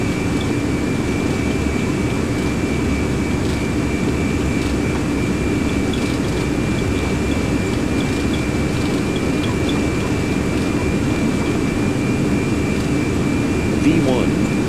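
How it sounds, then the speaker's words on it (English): A Boeing 737 Classic's jet engines spooling at takeoff thrust, a loud steady roar with a high whine on top, heard from the cockpit and continuing unbroken. "Takeoff thrust set."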